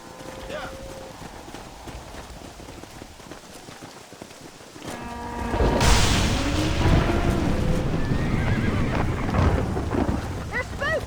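Horses stampeding through a thunderstorm in the video game Red Dead Redemption, a loud roar of thunder and rain swelling midway over pounding hooves and whinnies, with shouted voices mixed in.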